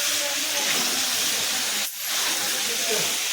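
Chicken pieces sizzle in a hot pan with chicken curry masala, a steady dense frying hiss that holds throughout with one brief dip partway through.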